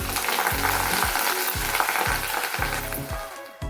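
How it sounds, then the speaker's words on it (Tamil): Curry leaves frying in a little oil in a pan: a loud, steady crackling sizzle with a rhythmic pulsing undertone running throughout, no voices. "இதெல்லாம் ஒரு வானலியில் கொஞ்சமாக எண்ணெய் விட்டுக்கலாம். அதில் கருவேப்பிலையை போட்டு பொரிச்சு எடுத்துடலாம்."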